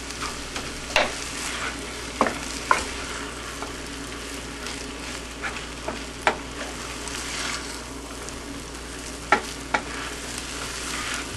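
Four-meat fried rice sizzles steadily in a pan, a soft constant frying hiss punctuated by sharp clicks and scrapes of stirring utensil, close up with no talk.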